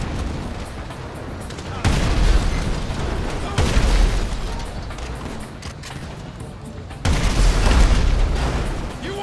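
Explosive sniper rifle shots and explosions in the video game GTA Online: three heavy, booming blasts, each trailing into a loud, sustained rumble under a constant background din.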